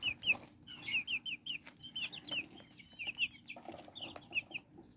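Tiny serama chicks, pale-toned newborns in a brooder, cheep and cluck while eating, a quick run of soft high peeps and chirps close by, irregular and overlapping.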